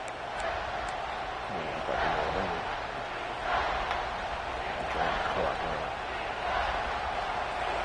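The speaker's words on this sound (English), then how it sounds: "Decibels rising as the crowd gets behind this defense on 3rd down" Football stadium crowd during a third-down defensive stand in a Georgia game, a steady loud roar that swells in waves, with a commentator talking over it.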